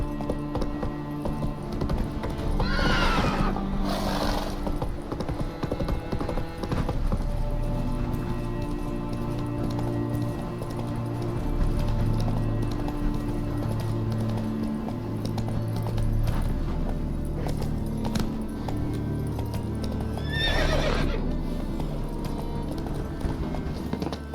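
Roach the horse from The Witcher 3 clops steadily along on its hooves over a low game soundscape, with a couple of brief whinny-like bursts early on and another near the end.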